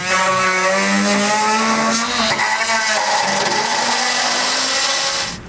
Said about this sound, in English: I'm just going to use an oscillating tool here, kind of get some nice clean cuts made